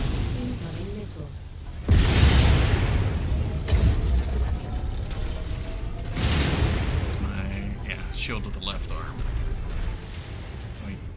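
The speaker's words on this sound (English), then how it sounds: "Reaction explosion." Heavy explosions and booming weapon fire in a mech combat video game, several loud bursts with a big blast near two seconds and another around six, mixed with mechanical clatter while a voice talks over the action.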